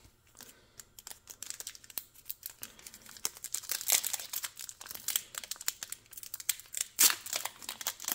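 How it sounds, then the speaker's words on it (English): A Pokémon Lost Origin booster pack is torn open, its foil wrapper crinkling and ripping up close in a dense run of sharp crackles, with louder tearing bursts near the middle and end. "a little difficult pack to open here for me normally"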